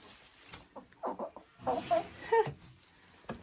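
Village hens cluck in short, uneven bursts in a straw-lined nest area after laying eggs in winter, close and moderately loud, with a few sharper squawks.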